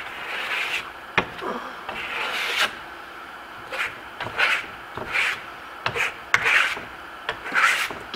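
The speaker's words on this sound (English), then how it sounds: "Get the excess wax off of there." Paste polishing wax being rubbed off Tuscan limestone-effect marmorino Venetian plaster, giving repeated soft rasping wipes in irregular bursts, close and moderate in level, with no talking.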